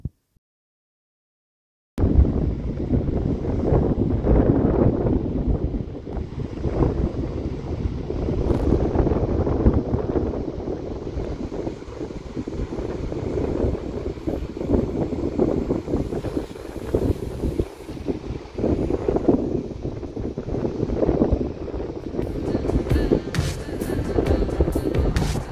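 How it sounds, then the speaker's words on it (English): Ocean waves crash and surge continuously along the coast near Doolin in the West of Ireland, a broad roaring wash with gusty wind buffeting the microphone, beginning after two seconds of silence. "enjoy the view and the sound of the crashing waves"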